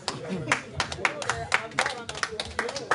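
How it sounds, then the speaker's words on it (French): Scattered clapping from a small audience at a press conference in a café, uneven individual claps rather than a full ovation, with some voices mixed in. "ça mérite quelques applaudissements"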